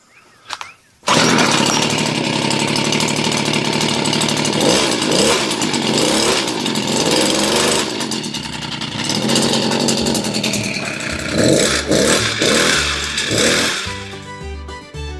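A Poulan Husqvarna PE550 gas edger engine runs off choke, a loud, buzzing two-stroke whine that starts abruptly after a brief quiet moment, holds steady with small fluctuations, then tapers near the end.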